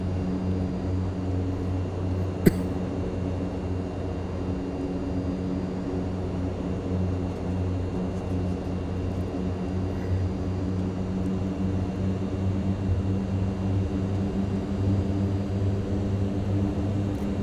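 A Mitsubishi MU-2 turboprop in a flight simulator rolls for takeoff with a steady, even engine drone that holds throughout, broken only by one brief click early on.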